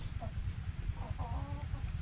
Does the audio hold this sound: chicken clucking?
yes